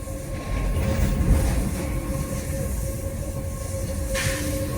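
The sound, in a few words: old Konkan railway train running through tunnels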